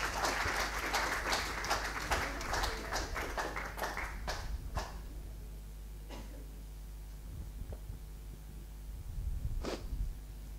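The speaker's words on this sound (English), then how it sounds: "Give me a round of applause" A church congregation at a Sunday service breaks into a burst of applause, dense clapping that thins out within a few seconds, leaving a few scattered claps and quieter room noise afterward.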